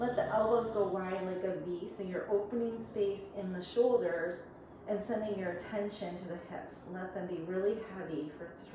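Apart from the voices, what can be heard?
None of the usual background noises is heard.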